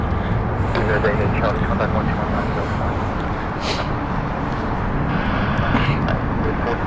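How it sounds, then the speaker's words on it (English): A British Airways Airbus A350-1000 departing Heathrow makes a loud, dense jet roar that stays strong throughout, with a voice speaking over it. "From British Airways, this is the Airbus A350-1000."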